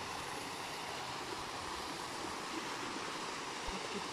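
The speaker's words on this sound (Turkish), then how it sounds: "şelalenin yanındayız. Buz gibi şelale." Steady, dense roar of an icy-cold waterfall in the countryside near Türkeli, Sinop, close and continuous with rushing water filling the whole clip, no voices.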